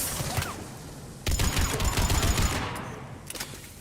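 Gunfire in the Mass Effect 3 video game: a few scattered shots, then a sudden dense burst of rapid automatic fire that rattles on for over a second and fades into trailing shots.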